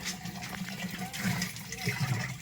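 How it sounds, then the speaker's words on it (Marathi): Muddy tap water runs steadily from a household tap in a Marathi home, arriving before noon, a continuous gushing hiss filling the whole stretch, with a faint voice low underneath. "बाराच्या अगोदर पाणी आलेलं आहे ते सुद्धा खदूळ आहे"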